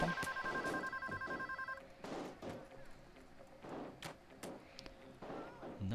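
An electronic telephone rings in a bank in a heist video game, a rapid trilling burst for a couple of seconds that then stops, followed by scattered game thumps and noise as someone talks.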